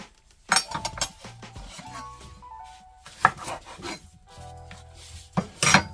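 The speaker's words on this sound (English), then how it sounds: "We're going to use the spoon and scoop out just a little bit." A spoon scrapes and scoops at an ingredient while a skin-care drink is prepared, giving close, short rubbing strokes in uneven bursts with a few sharper clinks.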